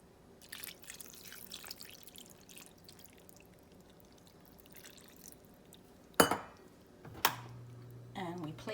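Water poured into a pot of chicken chili that already holds crushed red pepper and canned diced tomatoes with chilies. Two short, fairly loud splashes come after a quiet stretch, then a steady low pour with a faint drip.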